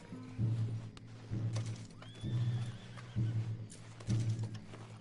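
Horses in the Red Dead Redemption 2 game, with repeated clip-clop hoofbeats in a steady rhythm and a neigh or whinny over them, fairly close, no talk.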